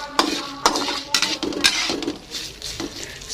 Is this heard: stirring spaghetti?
yes